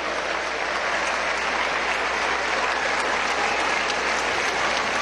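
Dense, sustained applause from an audience at a Venezuelan comedy show, loud and steady from start to finish with no voices standing out.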